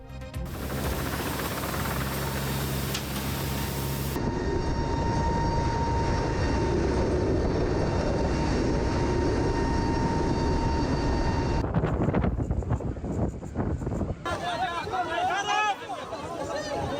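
An aircraft dropping aid supplies over Gaza produces a steady, loud engine drone that persists throughout, with voices and crowd babble mixed in.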